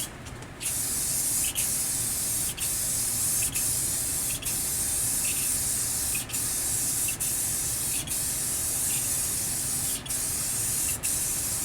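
Aerosol paint sprays onto the inside of a Burger Time arcade cabinet in long, continuous hissing bursts, broken by about nine brief pauses, close and steady.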